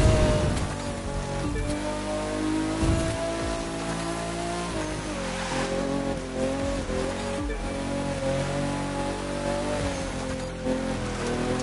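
A Corvette race car in a racing video game, on the Harlem West race, roars at a steady engine drone with long tire squeals layered over it, loud and continuous.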